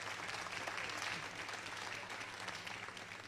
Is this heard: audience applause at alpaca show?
yes